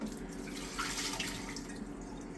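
Fish tank water poured down a sink drain during a water change, a steady close splashing gurgle that runs continuously without pauses, with no one talking.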